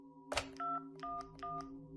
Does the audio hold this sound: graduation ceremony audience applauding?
no